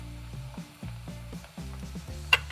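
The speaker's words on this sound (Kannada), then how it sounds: "ಈರುಳ್ಳಿ ಚೆನ್ನಾಗಿ ಫ್ರೈ ಮಾಡ್ಕೊಳ್ಳಿ" Onions frying in oil in a pan for stuffed brinjal curry, a steady close sizzle broken by a series of soft stirring or scraping strokes, with one sharp metallic tap near the end.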